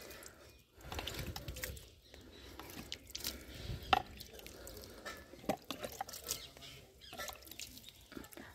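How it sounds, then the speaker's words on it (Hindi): Water sprinkled a little at a time onto soil in an outdoor crate, soft patters and drips in short bursts against quiet background, with a bird faintly audible. "छिड़काव के माध्यम से ही दूंगी"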